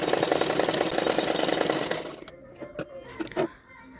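A sewing machine runs steadily for about two seconds, stitching the lining fabric onto a bra-cut double katori blouse, then stops, leaving a few light handling clicks and rustles.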